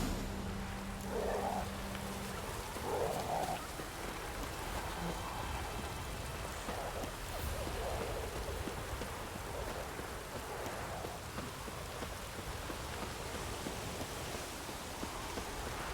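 Steady rain hiss in The Witcher 3 during a dingy, rainy stretch of gameplay, a continuous soft wash of falling water with faint tonal game sounds early on and no speech.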